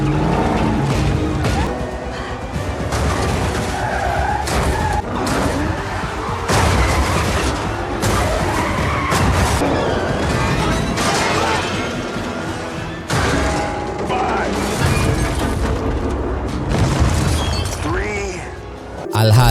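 Bomb blast from a Fast and Furious action film set in Rome, a dense, continuous stretch of booming, crashing and shattering debris with vehicle noise, loud and chaotic throughout under dramatic sound design.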